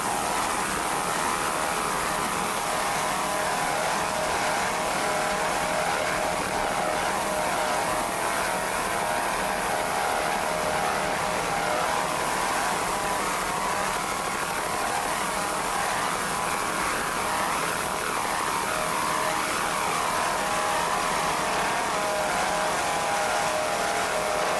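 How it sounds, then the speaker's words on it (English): Offshore racing powerboat engines from Team Boatworks in D class at a Grand Prix race roar as a steady, dense drone that holds constant for the whole stretch with no voices over it. "Team Boatworks, those engines sound excellent."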